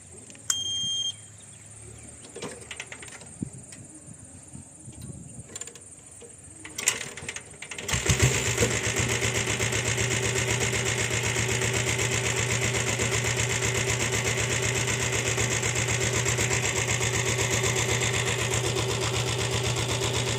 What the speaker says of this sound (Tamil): இப்போ வண்டியை ஸ்டார்ட் பண்ணி பார்க்கலாம்